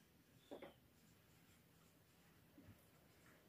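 Two short scratchy strokes of writing on a board during a physics lecture, a brief pair early on and a fainter one later, quiet in a still room.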